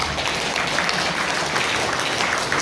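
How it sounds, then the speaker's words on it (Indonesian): A hall crowd at a Nahdlatul Ulama centenary celebration breaks into steady, dense applause, a loud continuous wash of many hands filling the room. "tepuk tangan Nahdlatul Ulama"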